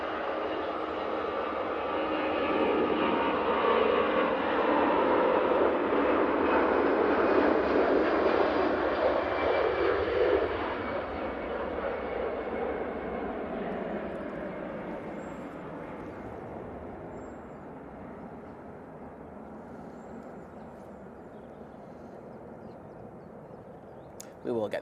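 An EasyJet Airbus A320-200 departs from Manchester Airport, its jet engines roaring loudly at first, then slowly fading into the distance as the aircraft climbs away.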